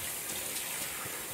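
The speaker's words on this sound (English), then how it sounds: "So we're just rinsing out we just gutted the fish." Tap water runs steadily over a freshly gutted amberjack fish, a continuous bright hiss of rinsing water with no break across the short moment.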